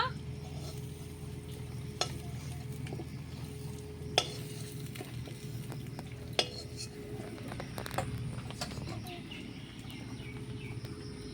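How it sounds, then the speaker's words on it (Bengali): Potatoes frying in a pan for aloo kofta give a low, steady sizzle with a few sharp metallic clinks of a utensil against the pan, fairly quiet throughout. "আলুগুলো কত সুন্দর লাল করে ভাজা হয়ে গেছে, এখন আমি নামিয়ে নেব"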